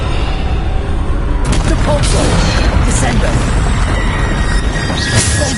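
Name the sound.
Bombarda spell explosions in video game Hogwarts Legacy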